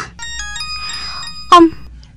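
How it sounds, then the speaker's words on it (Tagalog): A cellphone ringtone for an incoming call plays as a short electronic melody of steady tones, followed by a brief louder sound near the end, in an otherwise quiet room. "Ang cellphone ko, may nagapanawag?"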